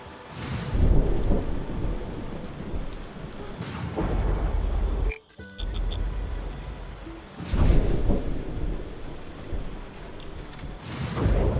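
Thunderstorm in the Tavern Keeper video game: steady rain with repeated rolling thunder claps swelling every few seconds, loud and close, with no voices.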